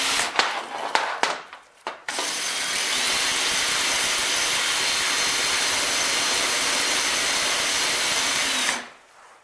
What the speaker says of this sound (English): More brake cleaner on there.